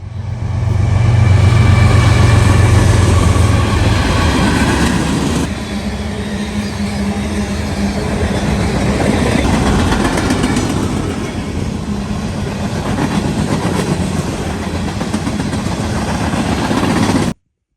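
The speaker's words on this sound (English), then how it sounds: "An unidentified CSX manifest speeds southbound through Carlisle on his way towards Cincinnati." A CSX manifest freight train speeds southbound through Carlisle, Ohio, a loud, close, continuous roar and rumble of rail cars that holds for the whole stretch before cutting off abruptly.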